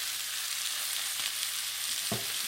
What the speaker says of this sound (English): So we're gonna put the beef in, the steak in